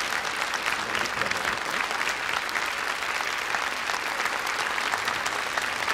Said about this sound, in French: on se propose d'applaudir, parce que c'est déjà